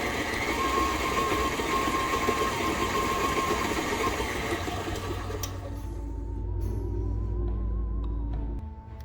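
An electric mixer whirring steadily through cake batter, a loud close motor hum that holds for most of the stretch, then drops in pitch as it slows and winds down near the end.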